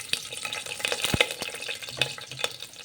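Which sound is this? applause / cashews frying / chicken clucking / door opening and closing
cashews frying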